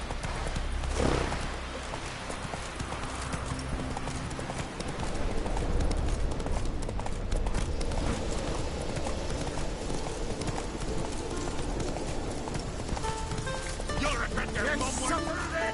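Hooves of Roach the horse clip-clop in The Witcher 3, a steady trotting rhythm that runs throughout, with game ambience and a brief louder rustle near the start.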